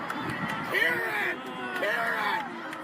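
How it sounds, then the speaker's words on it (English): A sports crowd roars and cheers in a steady swell of babble and whoops, loud and close, with voices shouting over it. "Listen to the crowd."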